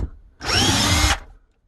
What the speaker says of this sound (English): I got to cut this plastic out of here.